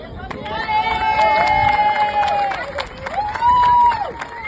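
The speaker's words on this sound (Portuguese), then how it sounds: "Então, um grande aplauso para Fabiano Afonso em representação do Brasil." Crowd applause and cheering for an athlete representing Brazil, with loud whoops and tonal shouts riding over clapping and babble, swelling near the end.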